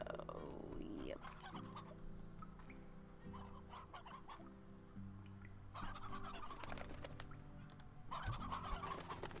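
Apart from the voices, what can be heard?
chickens clucking, rooster and hens, in video game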